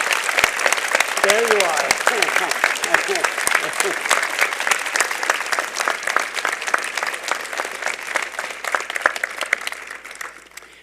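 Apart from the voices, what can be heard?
audience applause for Professor Simons at convocation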